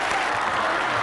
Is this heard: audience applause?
yes